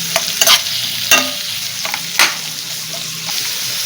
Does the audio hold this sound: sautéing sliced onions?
yes